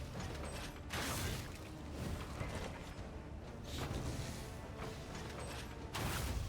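Piercing bolt attack in the video game Darkest Dungeon II, rendered as mechanical creaking and ratcheting bursts with whooshing swells, several loud surges separated by quieter stretches.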